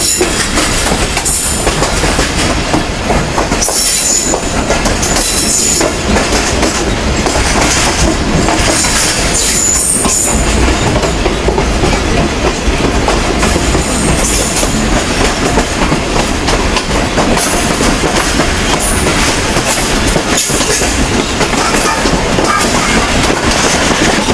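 A train rolls slowly through a large railway yard, crossing one set of points after another, with a steady loud rumble of wheels and rhythmic clickety-clack over the rail joints and switches throughout.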